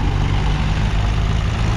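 Eicher 551 tractor being pulled through a mud heap while a Mahindra tractor pushes from behind, both diesel engines straining in a steady, loud, low rumble with no talk.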